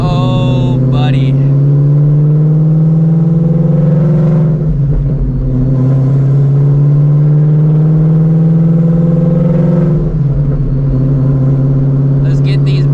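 A car engine hums steadily and loudly at a constant pitch while driving break-in miles, with a few brief revving swells along the way.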